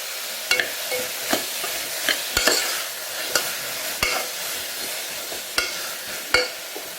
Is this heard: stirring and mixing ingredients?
yes